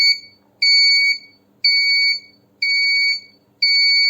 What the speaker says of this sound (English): This is the active buzzer.